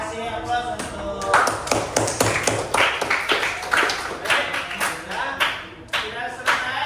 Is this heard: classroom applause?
yes